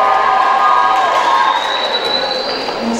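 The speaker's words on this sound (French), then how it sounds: "Applaudissements pour Céline." An audience at a candidates' speech event applauds and cheers as the second candidate takes the stage, a steady wash of crowd noise with shouts and whistles, loud and continuous for a few seconds.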